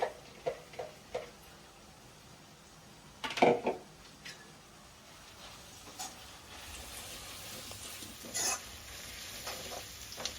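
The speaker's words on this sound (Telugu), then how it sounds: "కట్ చేసి పెట్టుకున్న గోంగూరని యాడ్ చేసేసుకుంటున్నాను ఇందులో కొంచెం మగ్గించుకోవాలి ఆయిల్లో" Chopped gongura leaves sauté in oil for gongura chicken. A faint sizzle runs under a few sharp scrapes and knocks of stirring, close by, with no talk.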